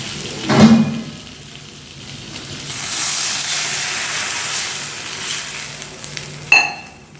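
Water splashes into a pan of frying potatoes and spices for a Bengali cabbage dhoka curry, setting off a sharp burst then a long, loud hissing sizzle that gradually settles, ending with a brief clink of a utensil.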